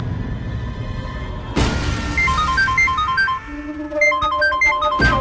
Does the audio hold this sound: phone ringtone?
yes